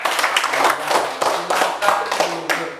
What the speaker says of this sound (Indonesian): silahkan kasih tepuk tangan lagi sekali ya